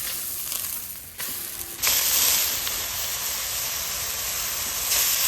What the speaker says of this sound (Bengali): এখন সজনে পাতা ভেজে নিব।